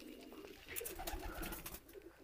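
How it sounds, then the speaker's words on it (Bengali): A pigeon of a current show generation coos quietly, low rolling calls repeating at a moderate distance against a faint room background. "এই দেখেন বর্তমান জেনারেশনের একটা আমি কবুতর দেখাচ্ছি ভিয়াস"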